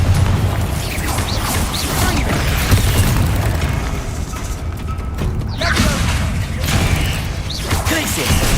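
A Confringo blasting spell in Hogwarts Legacy, heavy booming impacts rolling over a dense, loud game soundscape, with several crashing bursts spread across the stretch and speech mixed in.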